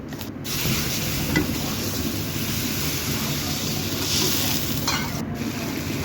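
Cumin, ginger, garlic and onion pastes with chili and coriander powder frying for chicken curry, a loud, steady hiss of sizzling oil with a few stirring scrapes, no voices.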